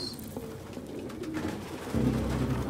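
Pigeons coo in the video game Detroit: Become Human, a soft low cooing that grows fuller and louder toward the end, with a quiet ambient background.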